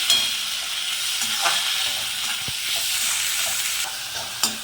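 Tomatoes with rock salt sauté in a pan for prawn thokku, a steady bright sizzle with occasional scraping stirs and a sharp tap near the end, close and loud with no talking.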